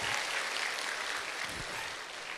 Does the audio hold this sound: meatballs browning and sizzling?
no